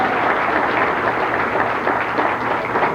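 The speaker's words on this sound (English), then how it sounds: "Let's have a nice round of applause." A round of applause from the crowd at a testimonial dinner honoring a club pro emeritus, steady dense clapping filling the room with no voices.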